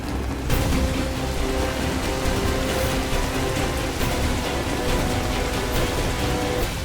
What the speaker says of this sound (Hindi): बरसात की रात है।